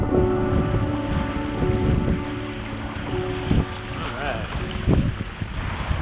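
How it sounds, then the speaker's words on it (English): Rushing water of small river rapids on the Poplar River in the rain, heard from a canoe with heavy wind buffeting the microphone, a few knocks and a voice briefly talking over the steady roar. "set of rapids here in the rain, no less"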